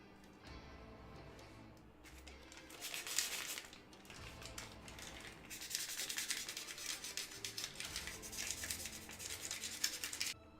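A tool scrapes across soft mud to sharpen a sculpted shape, with a brief rasping pass early on, then steady, close, gritty scraping strokes that continue for most of the second half, no voices.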